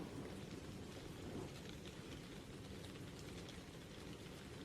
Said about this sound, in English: Got the rain sound effect.